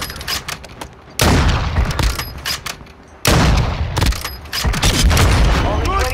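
Bursts of rapid gunfire in a shooter video game, loud volleys of automatic fire and booms with short gaps between, while players talk over the action.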